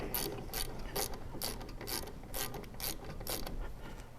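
Ratchet clicking as a rear brake bolt is snugged down on a Spec Miata (Mazda MX-5 track and autocross car), a steady run of rapid pawl clicks in repeated bursts, close up with no talk.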